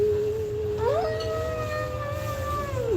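A person imitates a wolf howl during a breathing exercise: one long, close howl that starts steady, swoops upward in pitch partway through, then holds and slowly fades.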